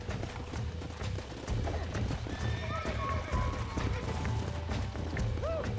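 A horse clip-clops at a gallop and neighs in the Western video game Red Dead Redemption, steady hoofbeats running under game noise with a whinny near the end.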